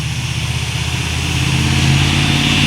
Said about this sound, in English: these new people moved in and they got these freaking loud ass trucks